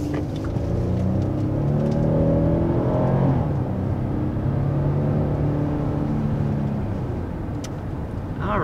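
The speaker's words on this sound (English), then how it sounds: "first taking off in this Telluride S" A 2021 Kia Telluride S pulls away, its engine note rising in pitch as it accelerates, then settling into a steadier rumbling whir with road noise.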